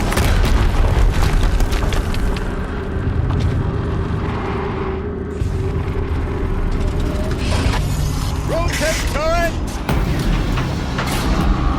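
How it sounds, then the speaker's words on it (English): A loud, dense game explosion in Horizon Zero Dawn, a deep booming rumble that fills the whole stretch, with mechanical clanks and machine sounds layered through it. "Explosion."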